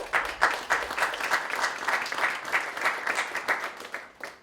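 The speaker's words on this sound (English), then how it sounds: "So round of applause." Steady applause from an audience clapping for student speakers at an oratorical contest, a dense even patter of many hands.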